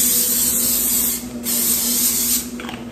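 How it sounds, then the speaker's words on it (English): An olive oil cooking spray can hisses in two bursts close by onto a baking tray, a steady pressurized spritz with a brief pause between them. "spray our tray. This is just a basic olive oil spray."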